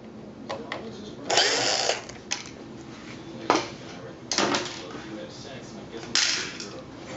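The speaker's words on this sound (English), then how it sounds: "We're going to start by taking out these four screws right here." Screws are backed out of a Panasonic LCD projector engine with a power driver, giving several short mechanical whirring bursts separated by pauses, close up and fairly loud.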